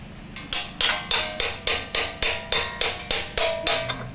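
Hammer blows knocking a stuck grinding disc loose from inside a pelletizer machine, about a dozen sharp metallic strikes in a steady even rhythm, close and loud with no talking.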